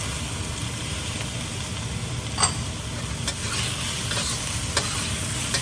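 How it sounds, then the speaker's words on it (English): Chicken fried rice with soy sauce is stirred in a wok over steady sizzling, with scraping strokes and a few sharp clinks of the spatula against the metal. "Keep stirring it to mix it up very well."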